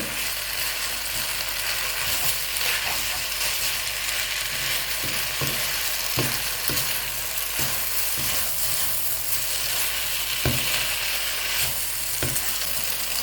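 Instant Korat noodles stir-fry in a pan with a steady close sizzle, and a spatula scrapes and clicks against the metal at irregular intervals throughout, with no talking.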